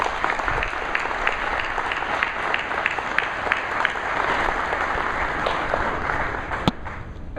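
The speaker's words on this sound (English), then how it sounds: "please join me in giving our construction crew a big round of applause" A crowd gives a sustained round of applause for a construction crew at the Northfield Park Hard Rock Racino, dense clapping holding steady throughout with a faint murmur of voices.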